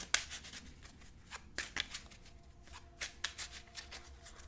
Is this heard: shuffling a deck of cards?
yes